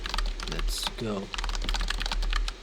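Rapid clicking of computer keyboard keys during an online typing test, steady and close, with a voice speaking briefly over the keystrokes partway through.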